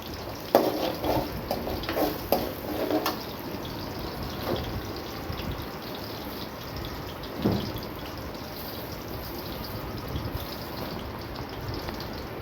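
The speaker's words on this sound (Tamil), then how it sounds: "பூண்டு நல்லா எண்ணெயில் வணங்கட்டும் வரமிளகா சேர்த்திக்கலாம்" Garlic and dried red chillies fry in oil for a bitter gourd tamarind kuzhambu, giving a steady close sizzle broken by scattered clinks and scrapes of a spoon stirring in the pan.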